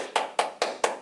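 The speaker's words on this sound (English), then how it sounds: "Give yourselves a big round of applause." Four crisp hand claps in an even rhythm, close and distinct, each sharp attack decaying quickly before the next.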